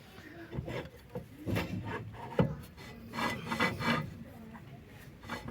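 A handbrake drum scrapes lightly as it turns, a repeated rubbing rasp in an uneven rhythm, close by, with no one speaking.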